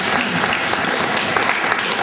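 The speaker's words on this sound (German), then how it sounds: "Applaus für Conny." A burst of loud audience applause at a ventriloquism show, dense and steady, filling the room with continuous clapping.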